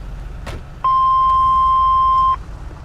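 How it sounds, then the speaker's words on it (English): A single loud electronic beep in the GTA 5 LSPDFR police game holds a steady tone for about a second and a half over low background rumble. "That beep scared the living mother loving scared the crap out of me"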